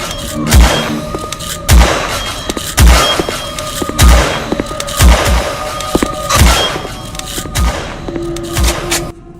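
A gun fires in the video game Cryospace, about eight heavy, booming shots at a steady pace of roughly one per second, close and loud, with rumbling effects between them.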